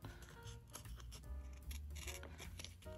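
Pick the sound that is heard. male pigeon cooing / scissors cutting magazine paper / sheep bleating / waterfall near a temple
scissors cutting magazine paper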